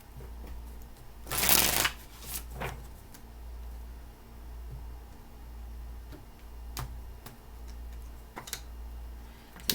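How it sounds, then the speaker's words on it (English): Tarot cards being shuffled during a reading: a quick burst of riffling cards up close, followed by softer sporadic taps and card slides over a low background hum, without talk. "Last shuffle, please."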